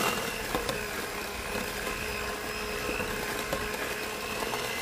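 An electric mixer whirs steadily as it beats almond paste in a kitchen, a constant moderately loud motor drone with faint clicks and knocks from the bowl and no talk over it.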